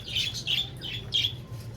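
A pet parrot and pigeons squawk in a few short, bright bursts at feeding time, loud and close, with a low steady rumble of background noise underneath.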